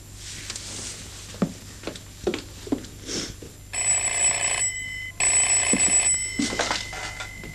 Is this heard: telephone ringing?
yes